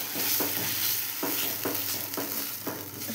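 Fish frying in a pan gives a loud continuous sizzle, broken by repeated scraping stirs of a spatula at a steady pace, with no one talking.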